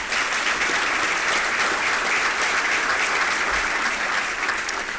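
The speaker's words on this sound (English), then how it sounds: "Let's please have a round of applause for all of our sponsors" Sustained, even applause from a business breakfast audience fills the room for several seconds, a dense wash of many hands clapping at once with no talking over it.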